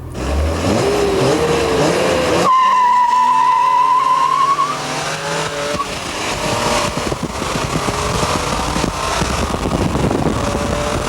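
A loud rally car engine roars and revs while tires squeal in a long, rising screech on a track in Płock, Poland, then the motor keeps growling hard close by.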